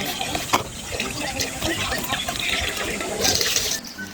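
Tap water runs steadily into a sink as produce is rinsed for cooking in a rural Filipino home, a continuous close splashing gush with a few brief louder spurts.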